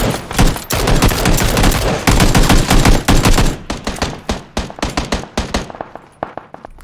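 Video game gunfire crackles in loud, rapid bursts of shots, dense and continuous at first, then thinning into sparser, separate cracks toward the end, with no voices.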